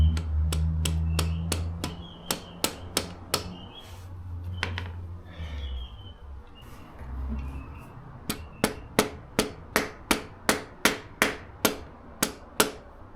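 A hammer taps a part into place during an Australian Mini Clubman GT interior rebuild, giving sharp, evenly spaced metallic knocks in two quick runs with a short pause between them, close and clear.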